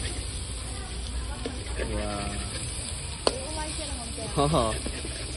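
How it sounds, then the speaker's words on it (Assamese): Pork fries in its own rendered fat, a steady hiss with a sharp clack of a utensil, while people talk briefly over the cooking. "তেলেৰে গাহৰি ভাজিম"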